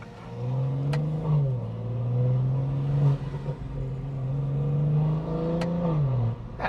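A BMW M240i G42 exhaust booms loudly while accelerating, its engine note climbing and dropping through gear changes with sharp crackles at shifts, heard continuously from inside the car.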